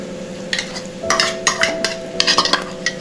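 Two chilies sizzle in hot oil with asafoetida while a spoon scrapes and stirs the pan, giving close, irregular metallic clinks over a steady low frying hiss.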